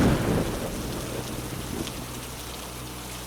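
Steady rain falls during a thunderstorm, a dense continuous hiss with low rumbling thunder rolling underneath, loudest at the start and easing slightly, no voices.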